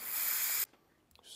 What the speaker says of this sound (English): we're gonna take some cleaner and spray this out.